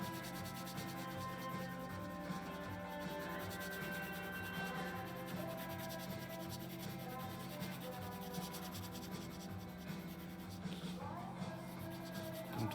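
Graphite pencil held nearly flat, shading a background and cast shadow on paper in several directions, giving a steady, soft rubbing scrape with a faint rhythmic back-and-forth texture throughout, close and quiet.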